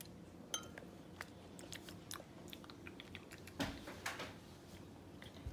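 Someone takes bites of a burrito with homemade taco sauce, with soft, quiet chewing and a few crunchy bites close by and no talk.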